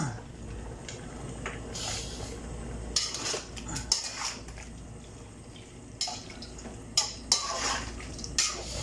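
Beef steak simmering in a pot as it is seasoned with MSG and stirred, with intermittent metal clinks and scrapes of a utensil against the pot over a faint, steady bubbling hiss.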